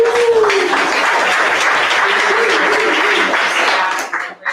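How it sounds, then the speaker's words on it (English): Audience applause at an event held at Eastern State Penitentiary, loud and close, with a brief whoop or call near the start before the clapping thins out at the end. "let's have a round of applause for Eastern State Penitentiary"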